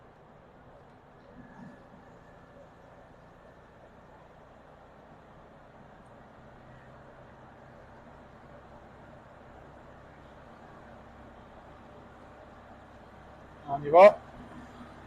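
Inside a 1972 Volkswagen Beetle 1200cc on the move, a faint, steady low engine and road rumble continues throughout, with a short spoken phrase near the end.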